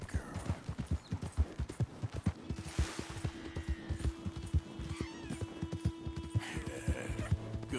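A horse trots at a steady clip-clop rhythm in Red Dead Redemption 2, the hoofbeats close and continuous under a faint background hum, with a brief soft whinny-like tone partway through.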